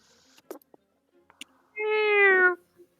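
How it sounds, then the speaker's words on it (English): A cat lets out one clear, drawn-out meow near the end, preceded by a few faint clicks and rustles in a quiet room. "Cat says meow."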